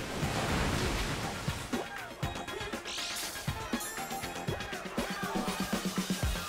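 The water effect of the Pokémon move Surf plays in a video game battle: a rushing wave-like wash with a string of quick splashy bursts at moderate volume.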